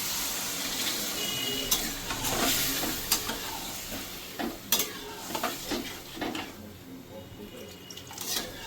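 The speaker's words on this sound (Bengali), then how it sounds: "এবার এটাকে একটু জল দিয়ে দেবো।" Water poured into frying egg curry masala, bringing a wet sizzle and bubbling hiss with spoon scrapes and stirring knocks in the pan, steady and close.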